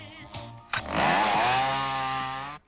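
A chainsaw in a film scene starts with a couple of short sputters, then revs up into a loud, sustained buzzing whine that holds steady before cutting off, with no talk over it.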